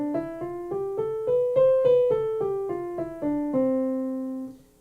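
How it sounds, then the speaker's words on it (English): A major scale is played note by note, rising through eight evenly spaced plucked tones and then descending again, each note clear and sustained, with the final note ringing out; no voices. "This is what a major scale sounds like."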